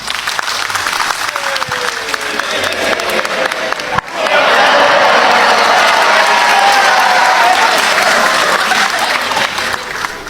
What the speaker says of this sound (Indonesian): Di sini yang dulu anak abah boleh minta tepuk tangan?